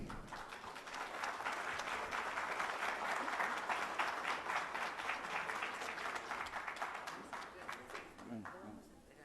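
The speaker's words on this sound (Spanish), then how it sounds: "Un fuerte aplauso para nuestro ponente" Sustained applause from an audience at a professional presentation in Oaxaca, dense and steady throughout before tapering slightly at the end.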